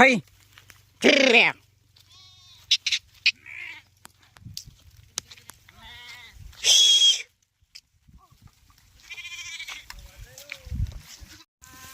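Sheep bleat loudly and repeatedly in a village field while being brought to drink water, several separate calls close by, with someone talking in between.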